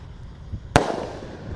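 A single Lebaran firecracker goes off with a sharp, loud bang close by, followed by a short rumbling echo that fades over the quiet outdoor background.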